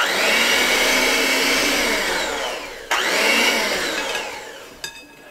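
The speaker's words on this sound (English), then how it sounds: "I'm going to whisk this just for a couple of seconds, just to say it's blended." An electric whisk blends Yule log batter with vanilla at low speed, giving a loud, steady motor whir with a faint grinding edge. It runs for about five seconds with one brief dip partway through and no voices.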